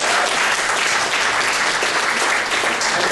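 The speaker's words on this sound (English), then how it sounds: "give him a round of applause" Sustained, steady audience applause for an event photographer at an executive leaders' gathering, a dense wash of clapping throughout.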